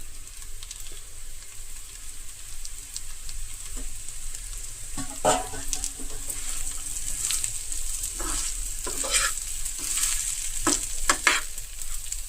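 Taro root (colocasia) pieces frying in oil in a pan, a continuous crackling sizzle punctuated by several spatula stirs and scrapes, close and steady.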